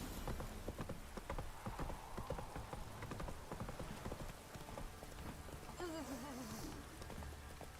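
Roach the horse galloping in The Witcher 3, rapid clip-clopping hooves in an irregular rhythm under rain-like patter, with a brief vocal sound near the end.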